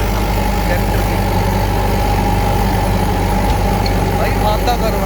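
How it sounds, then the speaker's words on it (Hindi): A Mahindra 575 XP Plus tractor engine running a rotavator, a steady, unbroken low diesel drone with a mechanical rumble that holds level for the whole stretch. "एक बार मैं आपको रोटावेटर की परफॉर्मेंस दिखा देता हूँ ट्रैक्टर की।"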